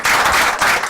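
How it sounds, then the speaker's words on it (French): Studio audience applause on a French stand-up comedy show, a loud, brief burst of dense clapping, close and unbroken. "Encore applaudissements pour lui."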